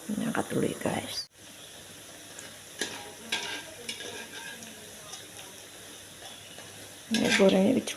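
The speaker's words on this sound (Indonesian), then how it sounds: "nenek goreng tempe dikasih tepung ya" Flour-coated tempeh sizzles and crackles steadily as it fries in hot oil, with stirring and utensil clatter, and short bursts of nearby talking at the start and end.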